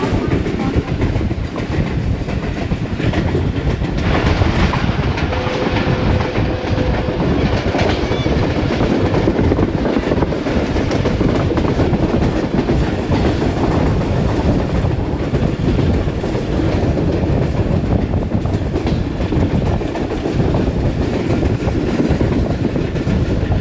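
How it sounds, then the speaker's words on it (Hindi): A Pakistan Railways Subak Raftar railcar rumbles loudly and continuously through Dina station yard, with rhythmic clickety-clack of wheels over rail joints and a steady roar of moving carriages close by. "इस वक्त हमारी ट्रेन दीना रेलवे स्टेशन के यार्ड में से गुजर रही है"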